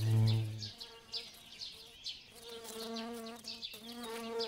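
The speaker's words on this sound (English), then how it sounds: "The hollow stems are a favorite with mason bees." Mason bees buzz and drone steadily at their hollow-stem nest holes with a few wing-hum swells, mid-level and close, with no voices over it.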